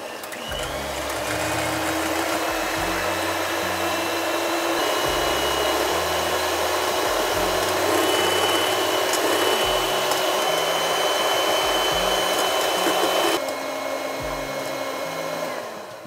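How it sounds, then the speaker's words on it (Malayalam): Electric hand mixer whipping egg whites for a homemade chocolate cake, a steady loud motor whir running continuously for about sixteen seconds with slight pitch shifts as the beaters move, no voices. "ഇനി നമുക്ക് ഈ എഗ്ഗ് വൈറ്റ് നല്ലോണം ബീറ്റ് ചെയ്തെടുക്കണം."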